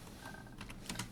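Fast typing on a computer keyboard while entering a drawing command in AutoCAD, a quick run of light clicking keystrokes, close and fairly quiet, with no voice.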